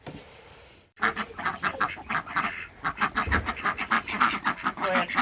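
Ducks quack in a garden just as they are let out, a loud, dense run of rapid overlapping quacks starting suddenly after a quiet moment and continuing nonstop.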